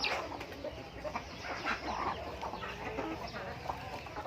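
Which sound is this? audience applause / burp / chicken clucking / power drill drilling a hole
chicken clucking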